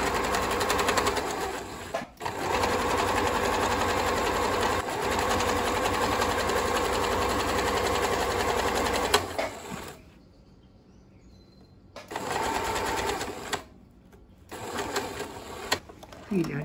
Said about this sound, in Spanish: Finalicé de coser una pierna, le añadí el entredós